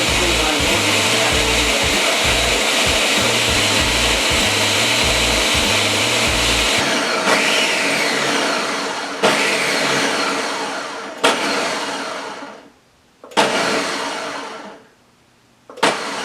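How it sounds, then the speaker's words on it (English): Electric blender whirring loudly and steadily while mixing a Baileys Shiver cocktail, then switching off and on in several short bursts near the end. "Now that everything's in the blender, we're just gonna go ahead and blend that for about 5 minutes."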